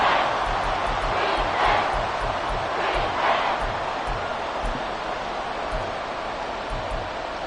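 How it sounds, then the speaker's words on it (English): Crowd noise from a Madden football video game stadium, a steady roar that swells in waves during a defensive stand on 3rd and long, with faint announcer speech underneath. "This crowd turning up the decibel level."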